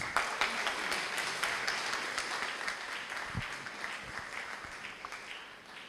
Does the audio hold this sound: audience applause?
yes